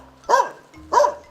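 A person imitating a dog, giving two separate loud barks about half a second apart, close to the mic and clear of other talk.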